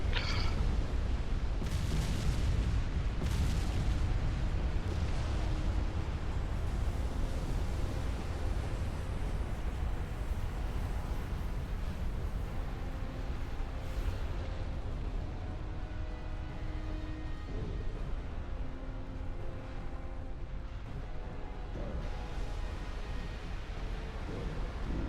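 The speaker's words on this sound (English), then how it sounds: "So we're going to get hit with a lot more torpedoes." Torpedo hits and explosions rumble across a warship battle in Ultimate Admiral Dreadnoughts, a dense, continuous roar of booms and bursts with no talk.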